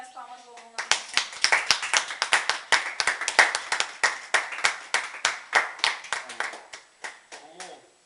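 A small home worship group clapping hands together in praise, a loud steady rhythmic beat of roughly two claps per second with a voice speaking briefly at the start and end.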